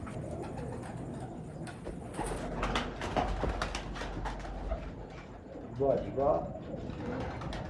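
Pigeons coo in soft, repeated rolling calls on a rooftop loft, a few bursts rising near the end, with a voice talking over them and some background chatter.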